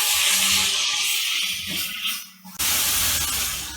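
Mutton and onions cook in a hot pan with a loud, steady sizzling hiss that dips briefly before surging back full, with no one speaking.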